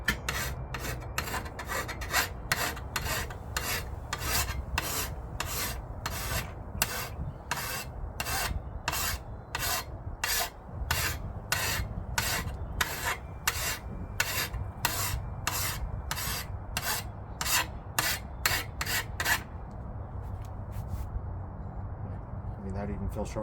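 A metal hand file sharpening a lawnmower blade: a long series of regular, crisp rasping strokes, close and evenly paced, continuing for about twenty seconds before ending, with a quiet background hum.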